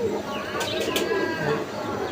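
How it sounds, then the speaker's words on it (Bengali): A Giribaz pigeon coos softly and close by in a brief, low rolling call, partly under a voice speaking nearby. "এই কবুতরটা"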